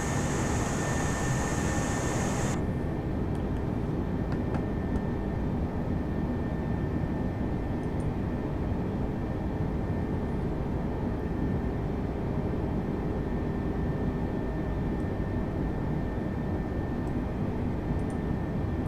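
An airliner cruises in Microsoft Flight Simulator 2020, a steady broad roar of engine and airflow noise that stays constant for nearly twenty seconds, with a brighter hiss layer dropping away after the first few seconds.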